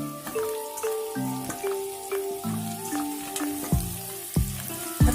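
Mushrooms frying in about three tablespoons of hot oil in a kadai, a steady close sizzle with crackling pops and occasional stirring clatter, no voices.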